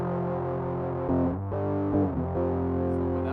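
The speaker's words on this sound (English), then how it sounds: "turn up the distortion." A buzzy synthesizer drone distorted by an Endorphin.es effects pedal, holding steady harmonic tones, with a few pitch changes and swells partway through.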